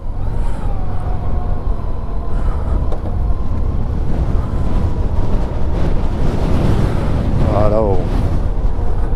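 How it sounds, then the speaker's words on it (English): Wind buffets steadily on a cold, windy day at Horrocks Beach, with surf and a voice faintly underneath. "It's a bit windy and cold."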